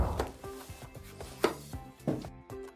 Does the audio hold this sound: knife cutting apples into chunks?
yes